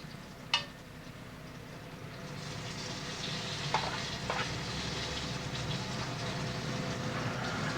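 Food sautéing in a pan on a stovetop makes a steady, continuous sizzle close up, with a couple of sharp utensil clicks near the start and in the middle.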